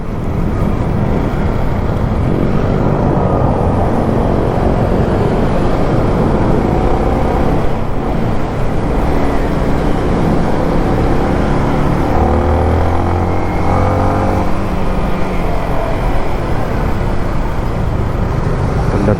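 Steady road traffic on a hot day, a dense, continuous wash of car and vehicle engine noise with passing motors blending into an unbroken roar, no voices.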